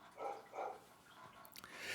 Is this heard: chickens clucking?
no